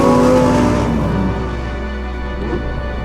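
A Lamborghini Huracán STO's 631-horsepower V10 drones loudly and steadily close by, its tone easing slightly as the sustained roar carries on with no talking.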